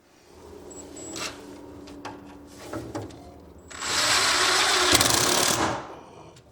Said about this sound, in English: I'll come over here and shoot a couple of screws in there